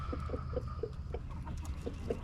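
An Easter Egger hen named Tiny clucks repeatedly in a backyard flock, a series of short, close, evenly spaced clucks over a low background hum.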